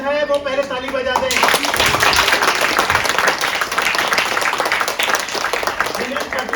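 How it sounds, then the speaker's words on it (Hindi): A crowd at an All India Radio Motu Patlu event breaks into loud, dense clapping after a short spoken lead-in, and the applause keeps going strong to the end. "जिन्हें मोटू पसंद है वो पहले ताली बजा दें।"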